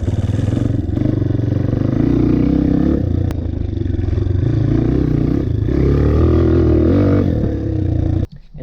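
Dirt bike engine under throttle while cornering, a loud close rumble that rises and falls with throttle changes, mixed with clatter and scraping, ending in a sudden drop.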